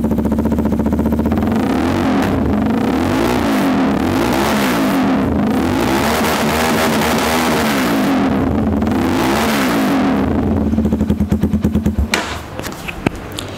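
A Superpower Sultan 250cc motorcycle engine fitted with an SC Project exhaust, loud and close, idling with a deep bassy rumble and rising revs that swell and fall, then settle into rapid popping pulses near the end.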